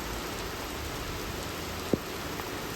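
Steady rain falls at Arambol beach in Goa, a dense, even hiss of drops across the whole stretch with one faint tap standing out and no voices.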